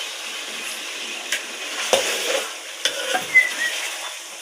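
Chicken sizzles softly in a pan as tomatoes and whole green chillies go in, giving a low frying hiss broken by a few brief spatters and clatters, close up and without talk.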